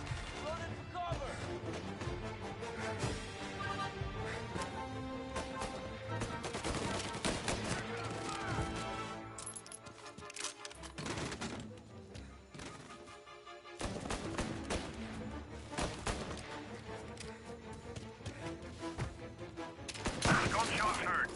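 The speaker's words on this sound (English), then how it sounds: "Gunshot heard." Gunfire in the Mafia 1 remake video game: loud rapid bursts and repeated shots fill the scene, with short lulls, dense game sound and voices talking throughout.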